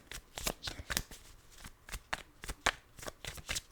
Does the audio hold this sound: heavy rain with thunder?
no